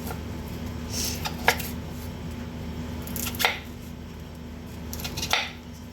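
Roasted coconut being cut into small pieces, with three sharp knife chops against a board spaced apart over a faint steady hum.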